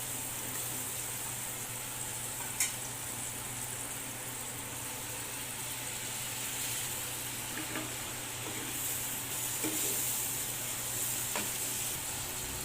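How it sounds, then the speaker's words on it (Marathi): Ridge gourd sautés in a pan with spices, a soft steady sizzle under a faint hum, broken by a few light stirring clicks of a spoon against the pan. "आणि यानंतर घोसावळे टाकून परतवून घेऊया"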